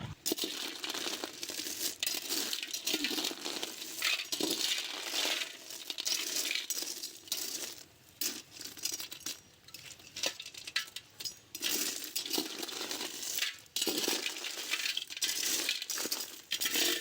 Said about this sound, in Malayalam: പൊട്ടി വരുമ്പോൾ തന്നെ നമ്മൾ കയ്യിൽ വെച്ച് നല്ലോണം ഇളക്കി കൊടുക്കണം